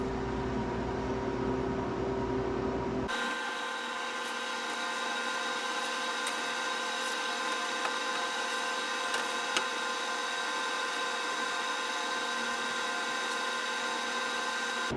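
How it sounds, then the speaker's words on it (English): A freeze dryer freezing orange juice hums steadily with a constant mechanical drone and faint tonal whine, after a brief louder rumbling start; no talking. "Our OJ is now freezing in the freeze dryer."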